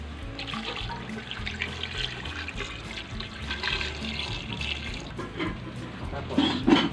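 Water is poured into a cooking pot while spicy paksiw na bangus, Filipino milkfish stewed in vinegar, is prepared; a steady, fairly quiet splashing stream runs for several seconds, with a slight clink near the end.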